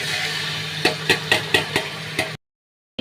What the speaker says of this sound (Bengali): এবার 1 ঘন্টা ম্যারিনেট করা মাটনটা এবার এর মধ্যে ঢেলে দিলাম